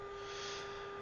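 A steady electronic warning tone from the minimum altitude selector in an L-39 Albatros in the DCS flight simulator sounds continuously for a moment, a flat, unwavering beep with no talking.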